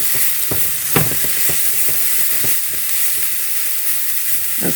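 Onions sizzle steadily in a hot pan, a loud continuous hiss of frying broken by occasional crackles and soft stirring scrapes, with no voices.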